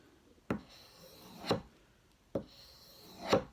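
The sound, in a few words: knife being stropped on leather with sharpening compound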